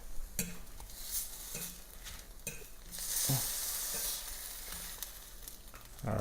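Turkey sausage frying in a skillet gives a steady sizzle with occasional stirring clinks and scrapes, close and moderately loud, and no one speaks.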